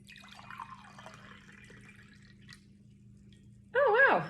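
Water poured into a narrower, larger drinking glass to measure about 8 ounces, a loud splashing pour bursting in near the end after quieter background sounds.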